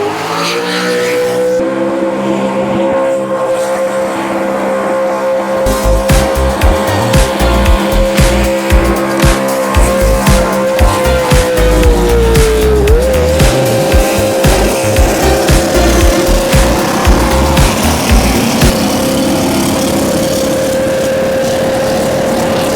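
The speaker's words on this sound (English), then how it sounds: "But we got a couple more burnouts left" A car does burnouts at the 2023 Cleetus and Cars burnout competition at the Freedom Factory, its engine roaring at sustained high revs while the tires squeal and skid. The noise is loud and continuous for over twenty seconds, with no voices.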